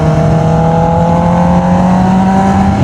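A Honda CBR650R motorcycle accelerating hard, its loud engine whine climbing in clear rising harmonics throughout, close and continuous.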